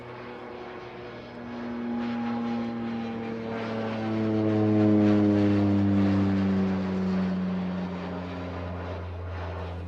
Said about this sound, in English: Cessna 441 Conquest lifting off.